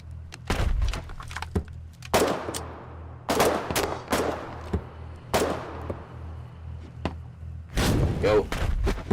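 Bursts of machine gun fire in a shooter game, several sharp clusters of shots spread across the clip over a steady low engine-like drone, loud and close.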